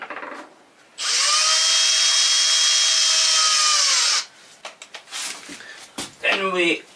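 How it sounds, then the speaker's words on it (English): A rivet tool, likely a power drill-style riveter, runs steadily for about three seconds while attaching a rivet during a camper van structure build, followed by clanks and rattles of handling. "Then we attach the rivet."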